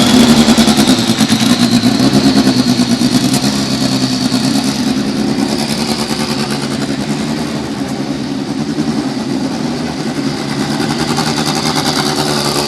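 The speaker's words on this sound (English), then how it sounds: "drivers, start your Mazda engines." Mazda race car engines start and rev together on the grid at the Firestone Grand Prix of St. Petersburg, a loud, dense, continuous roar that holds steady throughout.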